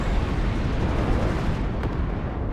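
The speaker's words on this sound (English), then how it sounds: "Napalm launcher, the second napalm launcher joining us in the game" A napalm launcher fires in the Cold War strategy game WARNO, a loud, continuous roaring burst with a deep rumble that fills the whole stretch without pause.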